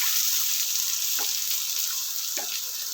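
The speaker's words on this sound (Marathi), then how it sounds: "त्यानंतर आपण यामध्ये लगेच कांदा घालून घेणार आहे" Onion frying in a hot pan for tomato chutney with garlic, a continuous loud close sizzle and a couple of faint stirring scrapes, with no talk.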